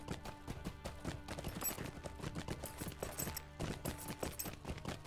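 Rapid, steady hoof clip-clops from a goat mount in the Lord of the Rings Online game, in the Mines of Moria, clattering in a quick, even rhythm over the whole stretch, with no talk.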